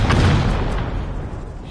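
A rocket explosion in the video game Rust: one loud, rumbling boom that fills the moment and slowly fades over under two seconds.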